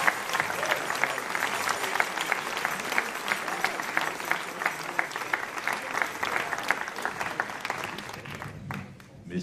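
An audience at a percussion concert evening gives sustained applause, dense steady clapping that thins out near the end.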